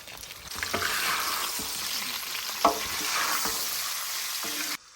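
Potatoes frying in a pan with zucchini, onion, garlic, bell pepper and figs, alongside pork belly cracklings: a steady sizzle broken by several scraping stirs, with one sharper knock midway.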